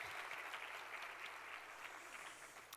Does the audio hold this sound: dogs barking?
no